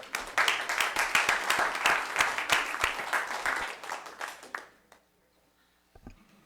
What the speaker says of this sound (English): Let's give him that applause.